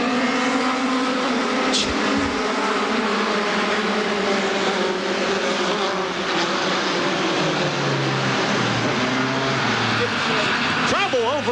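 A field of NASCAR Goody's Dash Series stock cars roars toward the green flag start at Langley Speedway. The loud, continuous engine roar rises and swells across the whole stretch, with a crowd cheering and an announcer's voice running underneath.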